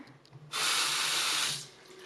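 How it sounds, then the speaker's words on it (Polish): Water gushing from a unicorn-shaped faucet into an apartment sink, a loud steady rush that starts suddenly, runs for about a second, then cuts off, with faint background noise around it. "To jest kran jednorożec."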